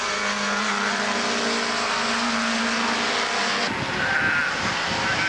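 Racing cars, including a Ford XR3, pass on a circuit in a continuous loud roar of engines, with a shift in tone partway through as another car goes by; no talking.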